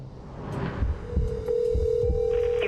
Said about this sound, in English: she bit the bullet and made a phone call